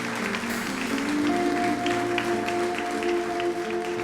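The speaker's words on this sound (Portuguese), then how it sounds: "Vamos aplaudir Jesus bem forte." Church congregation applauding together during a worship service, a steady wash of clapping with a held musical tone underneath throughout.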